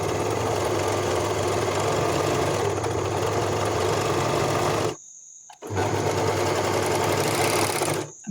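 An overlocker stitches along a fabric edge for an elastic food bowl cover, a steady, loud mechanical whir running continuously, pausing briefly near five seconds, then resuming until it stops just before the end.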